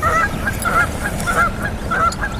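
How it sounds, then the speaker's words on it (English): Geese honk repeatedly in quick, overlapping calls, fairly close, over a low background rumble. "There's ducks and geese going everywhere,"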